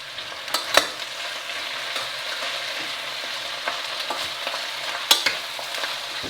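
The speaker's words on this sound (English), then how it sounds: "This will actually help draw out the moisture of the onions and help them saute faster." Onions sautéing in coconut oil with a pinch of table salt over medium-high heat, a steady quiet sizzle with a couple of sharper stirring scrapes near the start and end, close with no talk.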